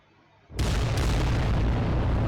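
Heavy weapon fire from a war machine in the Adeptus Titanicus video game, a sudden loud boom that swells into a sustained roaring blast, dense and continuous after a quiet start.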